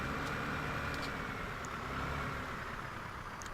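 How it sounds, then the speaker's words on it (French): A small tractor driven slowly to be parked, its engine a steady, fairly faint low rumble running continuously with no talk over it. "Je vais aller ranger ce tracteur magnifique."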